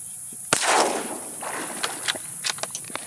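A single sharp, loud gunshot fired at an alligator during a hunt in South Louisiana, followed by a decaying echo and scattered smaller knocks and clicks nearby.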